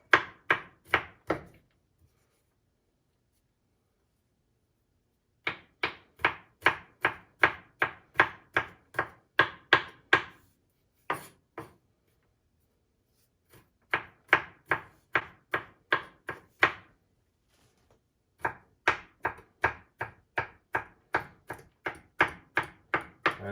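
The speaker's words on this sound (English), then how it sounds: "now you just basically take this pile and just kind of chop it up" A knife chops a pile of garlic in a home kitchen while making three-bean chili, in quick runs of close, crisp, steady chops broken by short pauses.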